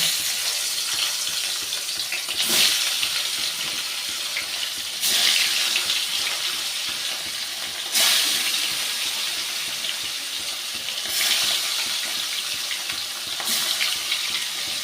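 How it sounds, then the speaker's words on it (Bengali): Rohu fish frying in hot mustard oil, a loud continuous crackling sizzle close by, swelling into stronger spattering bursts every few seconds. "এবার আমি মাছগুলো ভেজে নেব"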